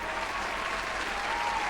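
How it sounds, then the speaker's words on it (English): A crowd claps in steady, dense applause for a short burst, with no voices over it. "I need a round of applause."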